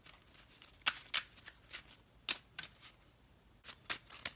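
Tarot cards riffled and shuffled close by, soft papery flutters in short irregular bursts over a quiet room.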